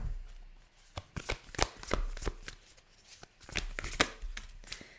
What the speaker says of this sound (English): I'm going to pull you some animal spirit cards